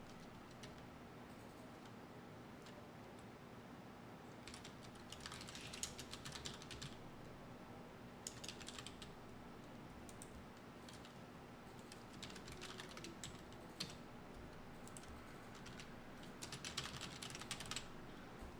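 Typing on a computer keyboard while writing a blog post, heard as faint, scattered bursts of light key clicks over a steady low hum, with no voices.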